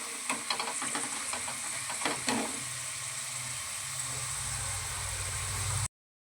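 Potato french fries frying in a pan of hot oil, a steady close sizzle and hiss with a few stirring clinks early on, continuing evenly until cut off.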